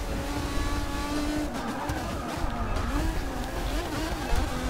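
A race car engine in a video game race drones steadily and loudly throughout, its whining pitch shifting slightly as the car accelerates and eases.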